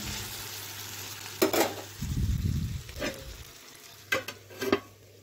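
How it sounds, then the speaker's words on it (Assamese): Low sizzling of eggplant and potato frying in a pan, broken by sharp scraping and clattering of a spatula stirring, with a burst of louder frying midway. "এইফালে বেঙেনা আলু ভাজি আছোঁ দুপৰীয়াৰ কাৰণে"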